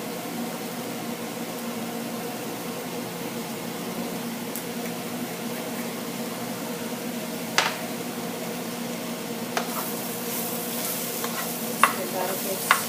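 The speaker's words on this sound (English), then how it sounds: "Let's give that a good stir." Mushrooms being stirred as they fry in a pan with dried oregano for a slow cooker lasagna; a steady soft sizzle runs throughout, with a few brief scraping clicks of the spoon toward the end.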